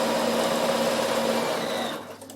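Bernina sewing machine stitching through linen napkin fabric, a steady close whirring hum that holds level and then tapers off as the stitching slows and stops near the end.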